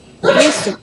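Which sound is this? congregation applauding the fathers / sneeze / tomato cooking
sneeze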